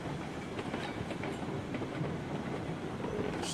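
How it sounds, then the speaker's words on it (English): A freight train in the RailRoads Online video game at an oil field, with steady rolling rumble and faint rhythmic wheel clatter throughout, moderately loud and continuous with no talking. "Do have a train sitting up here."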